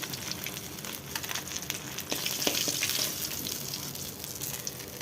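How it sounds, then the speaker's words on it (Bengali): Fish fries in hot oil for a Bengali fish curry, a steady bright sizzle with small crackles and pops, moderately close and without talk. "এইভাবে আমি লাল লাল করে মাছগুলো ভেজে নিয়েছি"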